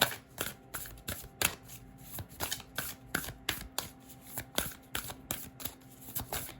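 Tarot cards being shuffled by hand, a steady run of crisp riffling flicks and soft slaps close to the mic, with no voice over them.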